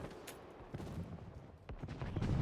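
Scattered video game gunfire, a few sharp separate shots and short bursts over a low rumbling backdrop, moderately loud and irregular, with no talk.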